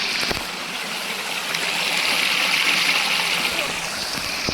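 Water pours and splashes steadily at an outdoor shoot location, a continuous rushing flow heard up close and fairly loud, swelling slightly midway, with no clear talk over it.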